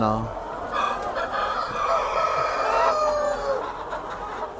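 A rooster crows over a dense chorus of clucking chickens in a chicken breeding farm, with a person talking faintly underneath.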